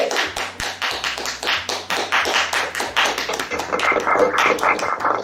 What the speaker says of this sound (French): On acclame Jerry Auguste pour l'engagement.